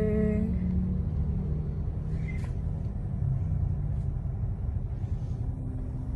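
Steady low rumble of idling motorized tricycles at a tricycle parking area beside the DTI office in Iriga City, engines droning continuously and fairly close with no talk.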